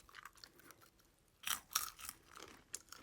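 Crisp crunching of a puffed corn snack revived in an air fryer, chewed close up in a few brief bursts with quiet gaps between bites.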